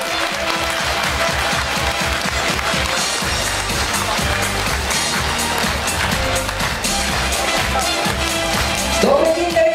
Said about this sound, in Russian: ваши аплодисменты не смолкают